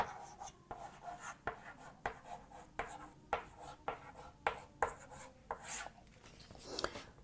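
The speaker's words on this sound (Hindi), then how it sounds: "चलिए अब इसके बारे में लिखते हैं।" Pen strokes scratching across paper as notes are written for a child development lesson, a steady rhythm of short rubbing strokes about twice a second, close and fairly quiet with no talk.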